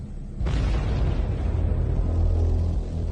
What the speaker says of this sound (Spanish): Johan Tamberg se ve atrapado en la explosión